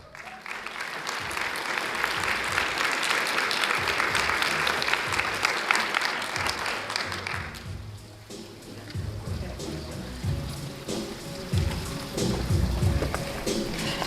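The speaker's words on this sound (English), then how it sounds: "Can we give one more big round of applause to Dustin Thomas, our Teacher of the Year?" A crowd claps loudly for several seconds at a Teacher of the Year semifinalist announcement ceremony, then the applause thins into scattered clapping and murmuring with some background rumble.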